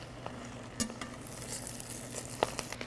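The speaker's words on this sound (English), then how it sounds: "Keep them stirring. Also be mindful that the grease will pop, so move quickly." Food sizzles and pops in hot grease as it is stirred in a pan, a soft, close crackle with a few sharp clicks of a utensil against the pan.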